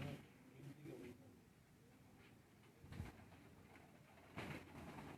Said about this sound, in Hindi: क्या बात है इस कबूतर की माशाल्लाह